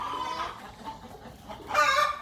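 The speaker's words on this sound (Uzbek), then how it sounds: "Mana shu tovuqlarning bolalari ular." Young chickens from the hens raise a fairly loud flurry of clucking calls in two bursts, nearby, over a low background murmur.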